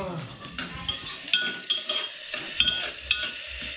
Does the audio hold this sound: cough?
no